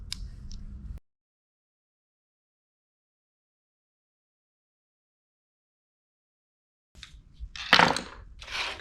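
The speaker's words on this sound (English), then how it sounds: "To remove these, you just kind of get in here and pry this little tab." Plastic clips are pried off a Jeep Wrangler TJ wiring harness loom: a short crackle, a long silence, then a cluster of sharp, close plastic snaps and clicks.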